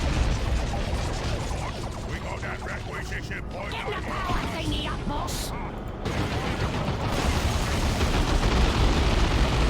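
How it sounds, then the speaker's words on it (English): Plasma grenade blast in the Dawn of War 2 Elite mod, a burst of rumbling explosion and crackling battle noise under a commentator's talk, with a loud roar swelling in the last seconds. "Plasma Grenade is thrown."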